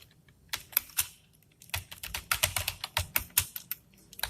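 Code being typed on a computer keyboard during a data structures lecture, rapid irregular key clicks in bursts with a short pause, close and fairly quiet, no talking.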